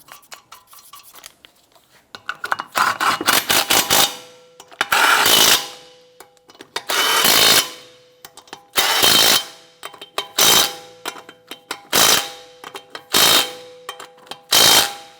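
Wheel lug nuts on a 2007-2012 Nissan Versa are tightened with a ratchet, giving a series of loud, close ratcheting bursts in a repeating rhythm, each a second or so long, with short pauses between.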